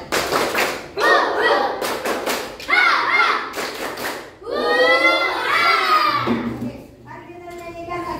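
Group of schoolchildren in an Indonesian classroom performing a rhythmic spirit clap, loud chanted voices in short bursts punctuated by sharp claps and thumps, close and energetic.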